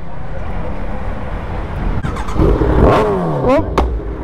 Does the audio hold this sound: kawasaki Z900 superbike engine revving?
yes